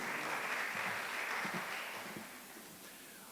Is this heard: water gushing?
no